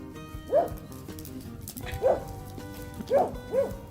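A dog barks four times outdoors in the woods, each bark loud and close, with uneven gaps between them over a quiet background.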